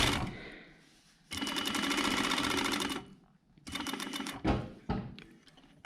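A sewing machine stitches fabric for a scissor holder in two close, loud, rapid runs of steady mechanical chatter, with a short pause between them and a few thuds as the presser foot is lifted to turn.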